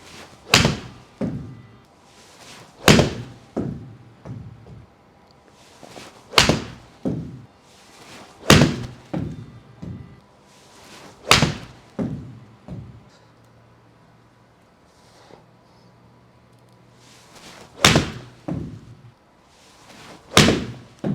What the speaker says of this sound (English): done hitting pitching wedges with the Tour Speed and the Tour Soft